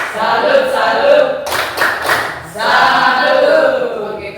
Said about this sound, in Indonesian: Tepuk salut untuk kelompok 3.